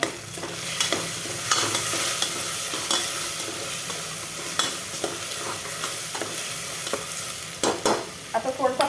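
Turmeric and chili powder stirred and fried in a pan, a steady sizzle under repeated scraping strokes of a spoon, with a quicker clatter of stirring near the end.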